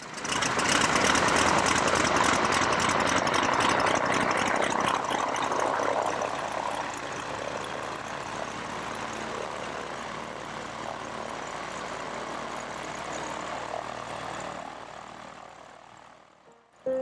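A 1940s Stinson 108-3 Station Wagon light airplane in flight, its piston engine and propeller droning steadily and fairly loud, slowly easing lower toward the end.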